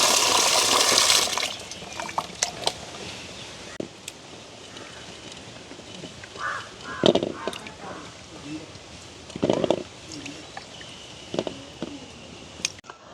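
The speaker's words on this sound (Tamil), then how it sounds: "நல்ல வடிவாக கழுவி எடுப்போம் நாங்கள்." Ambarella fruits are washed in water in a village setting: a burst of splashing at the start, then scattered smaller splashes and drips.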